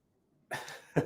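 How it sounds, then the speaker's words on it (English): A single short, close cough in two quick bursts, breaking a near-silent moment. "I'm going to start coughing."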